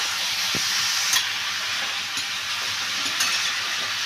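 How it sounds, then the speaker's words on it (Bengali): Snake gourd sizzles steadily in a pan with spices, a constant bright frying hiss with a few faint scrapes of stirring, close and alone with no voices. "মশলাটার সাথে ভালো করে আমি এটা এবার কষিয়ে নেব।"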